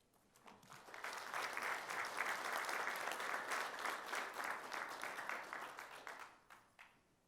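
An audience at a business conference on extended reality breaks into warm applause, swelling quickly to a dense, sustained clatter of many hands before fading out after several seconds.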